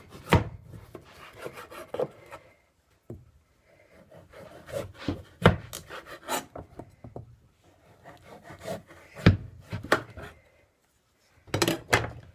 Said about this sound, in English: next comes just slicing up the squash